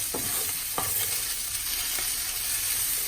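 Curry-glazed chicken pieces fry and brown in a pan with a steady sizzle, while a few soft scraping stirs come through near the start.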